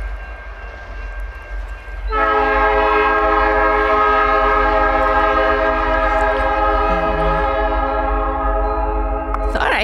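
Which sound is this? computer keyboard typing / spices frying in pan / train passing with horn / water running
train passing with horn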